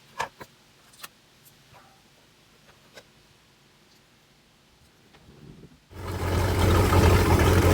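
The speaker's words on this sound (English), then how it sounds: "Right now I'm warming up the boat" A MerCruiser 5.0 L boat engine turns over and catches, then settles into a steady, loud idling rumble as it warms up, after a few quiet clicks and taps.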